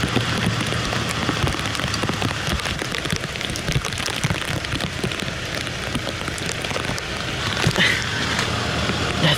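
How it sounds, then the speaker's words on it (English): Heavy rain pours down steadily, a dense patter drumming on nearby surfaces with no let-up. "There's such a thing as too much rain."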